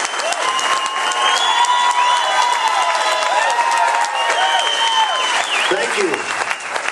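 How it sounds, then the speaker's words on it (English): A political rally crowd at a taxpayer rally applauds steadily for Scott Walker, dense clapping with scattered cheers and shouts filling the whole stretch, loud and sustained, close and enveloping. "Big hand for Scott Walker."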